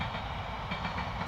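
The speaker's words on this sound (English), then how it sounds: "Oh, freight train." Freight train rolling past at steady volume, a continuous broad rumble with rail clatter throughout, no voices.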